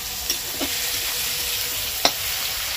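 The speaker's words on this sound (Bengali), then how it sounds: "এবার এর মধ্যে মিডিয়াম সাইজের 2খানা টমেটো কেটে নিয়েছি, সেটাকেও এর সাথে ভেজে নেব" Chopped medium tomatoes frying with rice in a pan for a banana-flower and prawn dish cooked with Gobindobhog rice, a soft steady sizzle broken by a few sharp stirring clinks.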